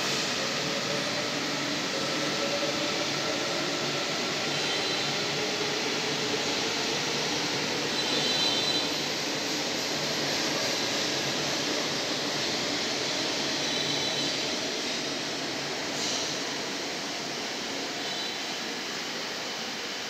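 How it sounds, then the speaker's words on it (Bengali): A Kolkata Blue Line metro train pulls out of Noapara station with a steady, broad rumble and hiss that stays loud and even, easing slightly toward the end. "মেট্রোর গেট বন্ধ হচ্ছে, আর এই মেট্রোটাই তার অন্তিম স্টেশন দক্ষিণেশ্বরের উদ্দেশ্যে রওনা দিয়ে"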